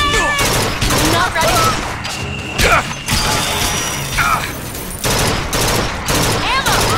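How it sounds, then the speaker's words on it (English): Heavy gunfire in the Bioshock Infinite battle "Three Tears", rapid bursts and single shots crackling almost continuously alongside mechanical clanks and a crash, with voices shouting over the fight. "Don't stop firing!"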